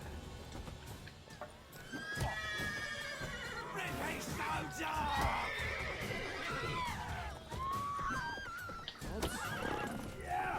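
A horse in The Witcher 3 video game gives repeated loud whinnies and neighs over clip-clopping hooves and scuffling, with game noise and voices mixed underneath.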